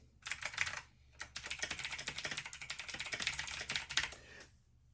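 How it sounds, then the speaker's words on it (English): Rapid clattering keystrokes on a Razer BlackWidow Tournament Edition Chroma V2 mechanical keyboard with clicky switches come in quick bursts with brief pauses, close and crisp. "I'll give this a bit of a typing test too."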